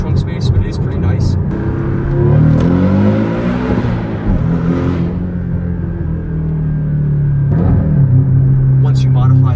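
A modified turbocharged Porsche Cayman S engine revs and pulls, rising and falling in pitch with a close rumbling drone as the car accelerates and shifts, under a voice talking over it.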